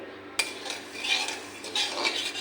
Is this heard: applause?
no